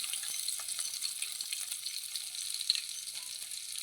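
Crushed ginger and garlic sauté in hot oil with a bright, steady close sizzle, light crackling and a few faint stirring taps, no voices.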